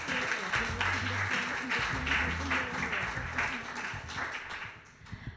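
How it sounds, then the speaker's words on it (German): Applause from the audience at a youth (U20) poetry slam as a performer is called to the stage, moderately loud and steady, then fading near the end, with a low voice or music faintly underneath. "Ich bitte auf die Bühne mit eurem riesigen Applaus"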